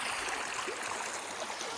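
Water runs steadily out of a pit in the countryside around Chaukul village, Sawantwadi, a close, continuous trickling gush with no talk over it.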